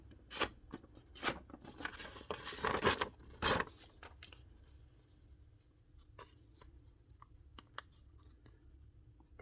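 A bit of paper folded by hand into a packer, with crisp crinkling and creasing bursts, louder at first, then quieter scattered rustles and taps.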